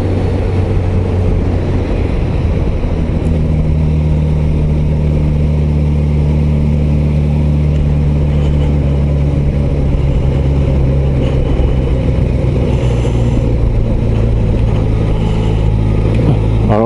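Suzuki GSX-S 1000 GT motorcycle engine droning steadily and loudly throughout under heavy wind rush, a low sustained tone holding then shifting slightly in pitch as the bike accelerates on the road.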